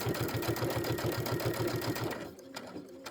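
A walking-foot sewing machine runs steadily over pins while quilting a Kimberbell project, making a fast rhythmic mechanical chatter for about two seconds before it stops and leaves a faint background.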